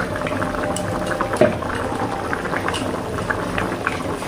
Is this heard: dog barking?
no